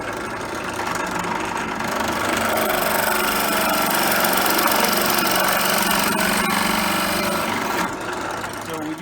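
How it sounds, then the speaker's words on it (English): A drill press runs steadily and boring down into a plastic cup, a continuous motor whine and grinding drone lasting several seconds before winding down, with no talk. "turn on our drill press, and down we go."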